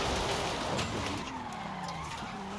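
Toyota Supra drifting in Forza Horizon 5, a loud burst of screeching tires and engine roar that slides and fades over a few seconds, with no talk.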